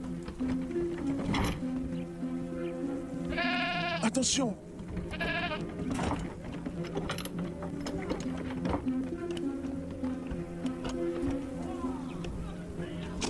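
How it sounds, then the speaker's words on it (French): A goat bleats twice in quick wavering calls amid a soldiers' scene, the cries rising over a steady mechanical hum and background chatter, with people talking throughout. "fais monter la chèvre"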